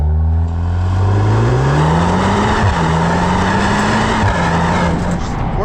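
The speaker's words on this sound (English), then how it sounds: "this really aggressive 2-litre turbo engine sound from behind the wheel, and a bit of a bassy pop from the exhaust" Loud, aggressive 2-litre turbocharged four-cylinder engine of a 2026 Volkswagen Golf R pulling hard, heard from inside the car, pitch rising through the gears with a deep bassy exhaust pop between shifts.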